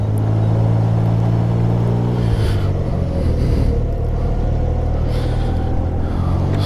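A 2022 Can-Am Ryker 900 three-wheeled motorcycle out on a ride, its engine a steady, loud low rumble with constant road and wind noise and no clear changes in pace.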